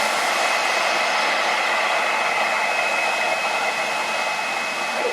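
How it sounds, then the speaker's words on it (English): An electric blower pushes a steady stream of air that keeps ping pong balls floating, making a loud, even, breathy hiss that holds constant throughout without a pause or any speech. "I'm gonna cut off the airflow and watch what happens."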